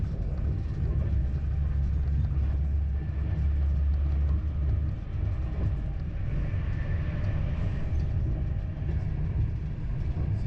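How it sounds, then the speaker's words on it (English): An Avanti Pendolino train accelerating out of London, heard from inside the carriage as a steady, loud low rumble and hum of wheels and motors, with faint speech underneath. "the driver can wind up our Pendolino"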